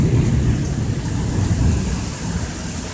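A heavy rainstorm, with dense rain beating loudly and close, and a deep thunder rumble rolling beneath it the whole time.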